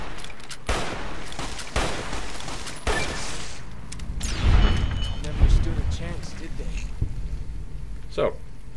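Gunfire from enemies in the video game Fallout: New Vegas (Honest Hearts), a string of sharp, loud shots and blasts at irregular intervals, with someone talking over much of it.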